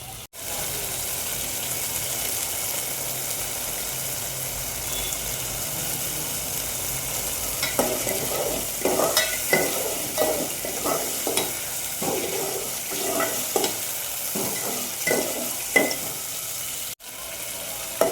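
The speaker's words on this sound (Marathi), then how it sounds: "वाटण छान परतून घ्यायचं. 5 ते 7 मिनिटं याला तेल सुटत परतू देऊया." Ground masala paste sautés in oil in a pan for a Maharashtrian soybean rassa, a soft steady sizzle underneath, joined midway by repeated scraping and clanking strokes of a spoon stirring it.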